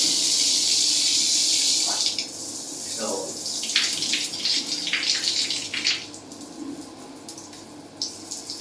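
Hot water from a solar-geyser system tap runs steadily at first, then the flow changes and splashes irregularly, with brief clatters and a faint voice in the background.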